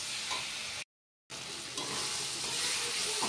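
Ginger and garlic paste sizzling hard in hot oil in a kadhai, a loud continuous crackling fry broken by a brief moment of silence before resuming.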